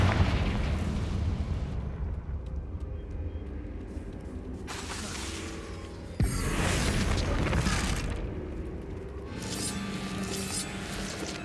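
Explosive Confringo spell blasts from the video game Hogwarts Legacy, with several loud, booming bursts over a dense, rumbling game soundscape.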